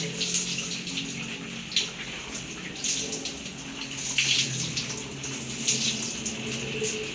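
Tap water runs steadily while shampoo is rinsed from an elderly woman's hair during a bath, a continuous splashing wash with small surges, mid-distance and fairly quiet, with no talking.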